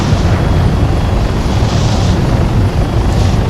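A helicopter in the Arma 3 video game flies in forward flight, a dense, continuous rotor and engine roar holding steady and loud throughout, with no voices over it.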